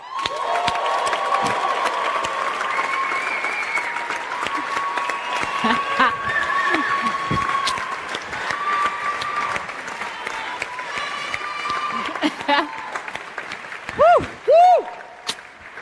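A stage-event audience applauds and cheers for a football athlete in a steady, loud wash of clapping and shouts that swells and fades, with a few whoops and chuckles near the end.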